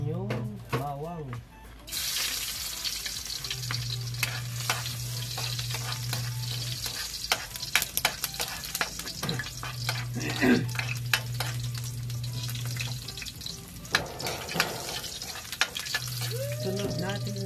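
Garlic sizzles in a pan while tinola is being started, a dense continuous frying hiss with scattered crackles and stirring clatter, a low hum underneath and a brief voice at the start and end.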